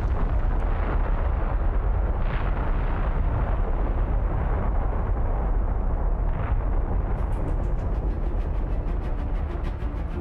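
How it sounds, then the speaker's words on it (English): Eruption sound effect of Vesuvius bursting open, a continuous loud deep rumbling roar with a few sharper blasts, heavy and close, with no talk. "there were tremors and then short, sharp explosions as the top of Vesuvius burst open"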